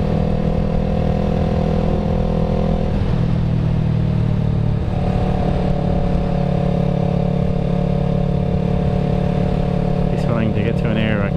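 A Yamaha YZF R3 motorcycle with an aftermarket exhaust, heard from the rider's position as a loud, steady engine drone that shifts pitch as the revs change, with wind rush throughout and a voice talking over it.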